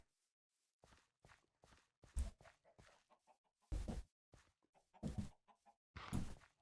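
Chickens cluck in the Minecraft Better Than Wolves mod, heard as short, separate bursts of clucking and fowl calls with quiet gaps between them, close and fairly loud. A few soft footstep-like sounds also come through, with no talking.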